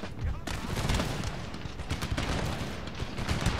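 Musket volleys roll on without a break in the Empire: Total War battle game. The crackling fire is dense and sounds somewhat distant, like massed lines shooting together.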